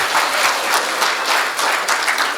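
An audience at a Hindi poetry recital bursts into brisk, loud applause, close and continuous for a couple of seconds with no voices over it.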